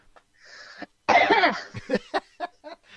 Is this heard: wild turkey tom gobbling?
no